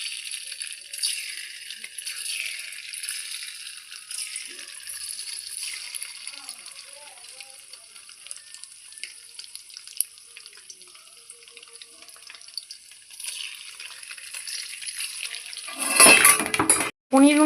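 Paneer frying in hot white oil in a pan gives a steady, close hiss of sizzling that runs throughout and swells with clattering near the end.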